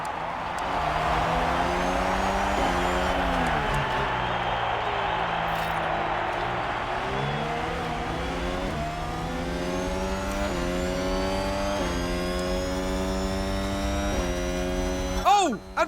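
Race cars accelerating off the line at the start of the Belgian Grand Prix in F1 Manager 22, a steady roar of engines with rising, shifting pitch through gear changes, loud and sustained.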